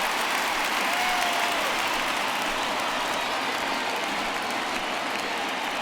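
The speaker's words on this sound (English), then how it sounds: "So he receives a nice ovation from this home crowd" A home crowd in the MLB The Show 19 baseball video game gives a sustained ovation, a dense, even roar of applause and cheering that holds steady and loud throughout.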